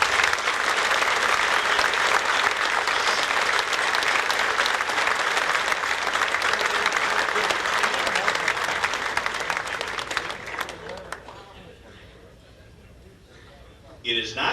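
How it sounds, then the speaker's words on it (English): Dense, sustained applause fills the room from a crowd of gentlemen at the Friendly Sons of Saint Patrick of Lackawanna County annual dinner, thinning out near the end before a brief final burst. "Gentlemen, if I can have a round of applause."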